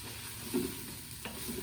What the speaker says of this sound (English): I'm going to mix that in with my beef and mushrooms